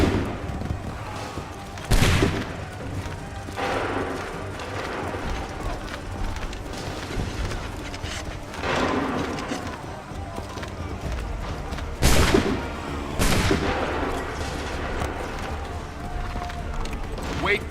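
Musket volleys fired by a line of soldiers in the video game Assassin's Creed 3, several loud cracking bursts booming through a constant battle din, with shouted commands heard between shots.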